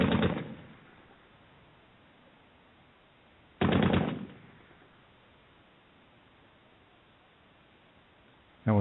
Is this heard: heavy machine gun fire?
yes